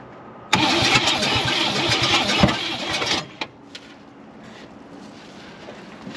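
A 1962 Cadillac Coupe Deville engine cranks and catches with a loud, rough roar that runs unevenly for about three seconds, then cuts out abruptly, leaving quiet with faint clicks.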